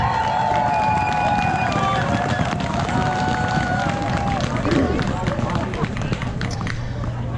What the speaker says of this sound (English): Everyone, please give our undercover officers in the crowd a round of applause.